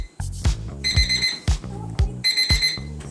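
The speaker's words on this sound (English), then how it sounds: "The Ruggie's the size of a bath mat with different alarms and volume levels." A Ruggie alarm clock set to its highest volume rings loudly and close, with repeated bright electronic beeping bursts and sharp thumping pulses in a steady pattern.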